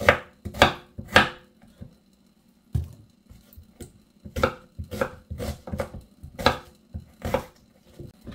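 A knife chops through fish on a board while preparing paksiw na isda. Crisp, close thuds come in quick bursts of two or three, separated by short pauses, with no talking.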